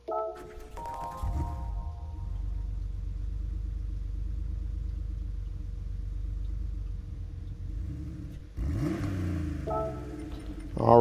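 A 1992 Porsche 911 Carrera RS (964) flat-six in Gran Turismo 7 cranks briefly and then settles into a steady, loud idle rumble that holds for several seconds before a short rev and menu chime near the end.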